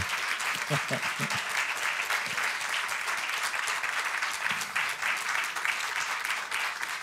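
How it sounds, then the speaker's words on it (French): A theater audience applauds a guest at a public talk, dense, continuous clapping from many hands filling the whole stretch, with a few voices briefly audible beneath it. "Vous pouvez l'applaudir."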